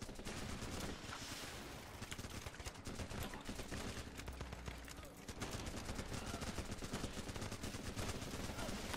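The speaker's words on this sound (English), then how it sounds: "I shoot all the bad man." Dense, continuous gunfire from the Running with Rifles video game, rapid shots running throughout under mixed battle noise, with a brief lull in the middle and some speech mixed in.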